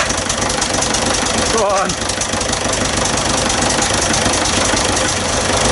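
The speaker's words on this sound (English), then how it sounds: "at least the pump's working" A hydraulic pump runs on an old machine left standing for 30 years, its leaking hoses and worn rams lifting. It gives a steady, loud mechanical drone throughout, with a brief squirt near the start and a voice speaking over it.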